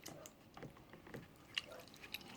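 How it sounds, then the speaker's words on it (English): Fabric swished by hand through a shallow container of water while rinsing off Amodex ink and stain remover, giving soft, faint, irregular sloshes and drips with a couple of small splashy peaks. "I'm going to drop the fabric in and just swish that around"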